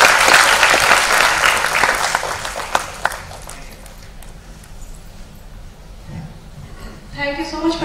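Audience applause at a special conversation event with an actor for the film Manto at Godrej India, a dense burst of clapping that fades out, followed by a voice speaking over a quieter room.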